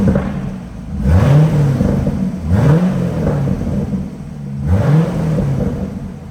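A 2010 Corvette convertible engine revs hard three times through a loud, throaty Borla exhaust, each rev rising and falling over a steady idle rumble.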